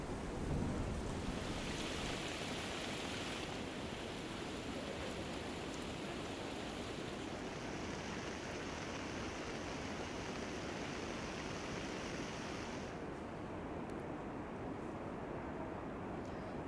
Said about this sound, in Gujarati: ધોધમાર વરસાદ શરૂ થયો હતો